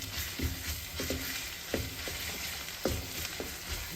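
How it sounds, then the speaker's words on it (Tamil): Ginger garlic paste frying in hot oil for a quinoa dish, a steady sizzle broken by several stirring scrapes at a moderate distance, with no talking. "அந்த எண்ணெயில் கொஞ்சம் ஃப்ரை பண்ண விடுறோம்"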